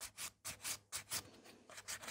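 Sculpted gel nail being filed by hand: repeated short scratchy rubbing strokes in an uneven rhythm, close and faint, no talking.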